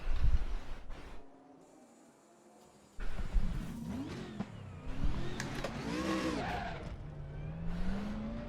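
A race car in RaceRoom Racing Experience at the Hungaroring during practice, its engine idling and then revving and accelerating with rising and falling pitch, plus tyre squeal, with no talk.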